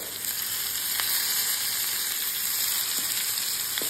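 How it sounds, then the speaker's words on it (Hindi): Bottle gourd (lauki) frying over a medium flame with lemon juice added, a steady close hiss of sizzling oil throughout, broken by a few faint scrapes of a spoon stirring the pan. "यहाँ पे हम इसको अच्छे से मिक्स करते हुए भूनेंगे"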